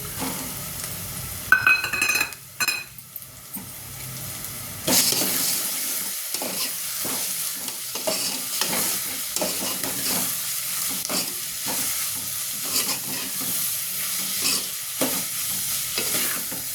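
Prawns and onions sizzle loudly in a pan while a utensil scrapes and stirs in repeated strokes; brief clinks come early, with no speech.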